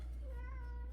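A house cat meows once to be let outside, a short rising-and-falling cry heard faintly over a strong, steady low hum.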